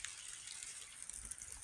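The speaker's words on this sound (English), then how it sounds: "Starting to rain a little bit." Light rain falling on a wooded forest trail in Oregon, a soft steady hiss of fine drops on leaves and ground, faint and even throughout with no voices.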